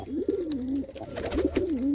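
Pigeons cooing in a loft, several close, rolling coos repeating in two clear bursts, loud and alone with no talking.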